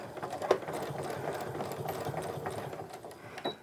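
Sewing machine stitching a seam on a tote bag, a steady close mechanical whirring hum with rhythmic needle chatter throughout, no talk.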